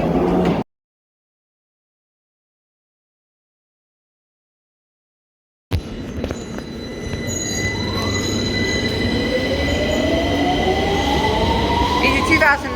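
A 2009 Victoria line train at London's Victoria station: brief rail noise, a gap of silence, then a loud rumble with rising, squealing wheel tones as the train moves, close by.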